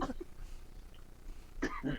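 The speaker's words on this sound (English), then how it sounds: "He's just coughing. He can't handle it." Two short, rough coughs, one at the start and another near the end, separated by quiet.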